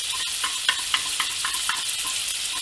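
Canned tuna in sunflower oil hits a hot pan and sizzles steadily and brightly up close, with light scraping stirs and a few soft utensil taps on the pan.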